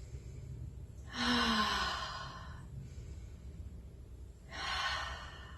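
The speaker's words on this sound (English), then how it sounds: "Inhale up, exhale down." A person doing chair yoga exhales twice, slow and close, each breath a long audible sigh separated by a quiet pause.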